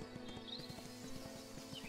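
Horse hooves clip-clop in a steady rhythm in the video game Ostwind, soft and continuous over quiet game ambience.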